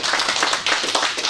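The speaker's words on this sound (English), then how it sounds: "Can we give God a clap?" A church congregation clapping together during a sermon, a dense, close burst of hand claps lasting just over a second.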